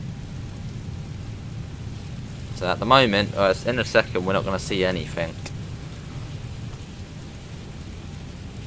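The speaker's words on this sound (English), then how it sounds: "Sounds like I can hear the rain, but then there's no rain again." Rain falling in the Microsoft Flight Simulator video game, a steady soft hiss running throughout beneath someone talking in the middle of the stretch.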